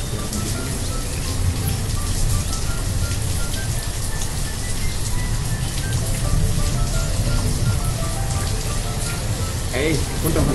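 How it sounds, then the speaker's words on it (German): Steady rain falls in the video game Banished, a continuous broadband hiss that stays even throughout, with faint tonal game sounds and music drifting underneath. "Ich glaube nicht, dass hier das als blauer Regen anfängt."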